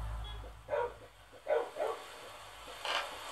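A cartoonish dog in the Crossy Road video game gives four short, punchy barks spaced irregularly over a low background hum, close and clear with no talking.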